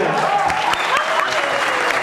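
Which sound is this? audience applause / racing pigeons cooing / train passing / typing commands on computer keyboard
audience applause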